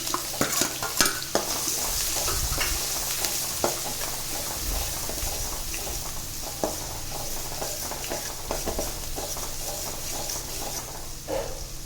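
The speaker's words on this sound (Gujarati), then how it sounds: "હવે આપણે તેમાં ઝીણી સમારેલી ડુંગળી લઈશું." Finely chopped onion frying in a pan for Kathiyawadi masala khichdi, with steady sizzling and repeated scraping stir strokes throughout, close and alone without talk.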